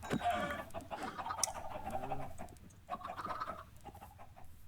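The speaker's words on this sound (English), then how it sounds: "maintain our chickens real quick" Chickens cluck in a farming video game, a busy run of short fowl calls and squawks near and fairly loud, with a rooster-like call in the mix.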